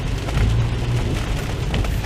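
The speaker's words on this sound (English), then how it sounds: "It's really raining." Heavy rain drumming steadily on a car during an evening drive in Montreal, heard from inside the vehicle as a continuous dense patter over low engine and road rumble, with no talk.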